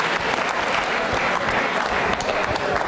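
Sustained applause from a studio audience at a televised quiz program, dense and steady clapping throughout with a lively crowd quality.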